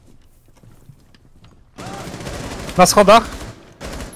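Gunfire in Rainbow Six Siege, a short cluster of loud shots near the end of the clip, with quieter game ambience before it and voices talking over the action.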